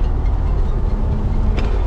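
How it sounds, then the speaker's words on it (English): Steady loud rain drums on the roof of a Toyota VDJ79 towing a caravan, a dense hiss and patter with low road rumble beneath, no voices. "Have a listen to that rain on this roof"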